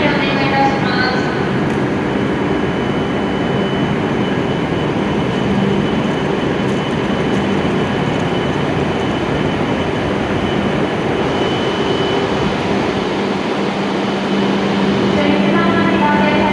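A Hokuriku Shinkansen E7 series train arrives at platform 11 of Kanazawa station, a loud, steady rumble of wheels and motors that fills the platform throughout, with faint station sounds beneath.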